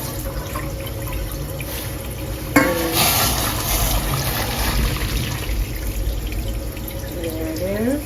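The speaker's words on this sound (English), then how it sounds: "But now we're ready to drain the tofu and pat it dry. So now we're at the sink." Tap water runs steadily into a kitchen sink as a block of tofu is drained, a broadband continuous rush with a louder splash near the midpoint, close and unbroken with no talk.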